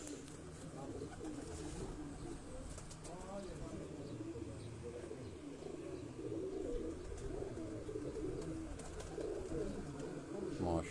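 Pigeons of a crossbred pedigree line, dub-type crossed with another breed, coo repeatedly in low soft murmurs at close range, with a voice talking over them throughout.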